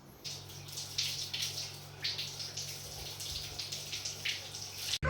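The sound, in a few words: water running while washing off henna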